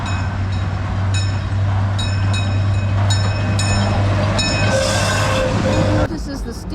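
Crooked Creek Whiskey Island Railroad park train rolling past in Pioneer Park, Fairbanks, Alaska, with a steady low rumble, repeated sharp clanks, and a brief burst of hiss near the end.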